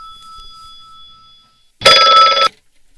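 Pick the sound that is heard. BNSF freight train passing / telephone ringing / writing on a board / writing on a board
telephone ringing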